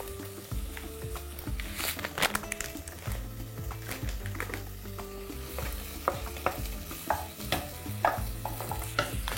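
Onions sizzle steadily in a pan for onion soup while a utensil scrapes and stirs, with several sharp clinks; no one speaks.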